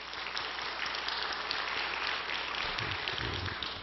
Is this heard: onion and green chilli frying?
no